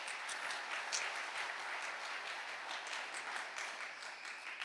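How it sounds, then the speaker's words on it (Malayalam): An audience claps together at a Malayalam Christian spiritual talk, a sustained, fairly distant round of applause with dense overlapping claps and a faint voice beneath. "ഒന്ന് കൈയടിച്ചേ"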